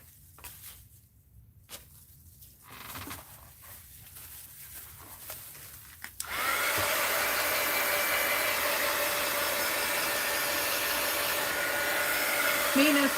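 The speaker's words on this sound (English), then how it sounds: "Heat gun alert." Heat gun switched on to dry paint on an art journal page, starting after quiet handling sounds and then blowing as a loud, steady, hissing roar for several seconds.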